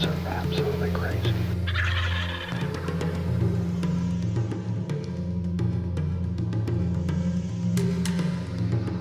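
Wild turkey toms gobbling repeatedly in the field near hunting decoys, rapid rattling calls overlapping one another, loud and close over a constant low background rumble.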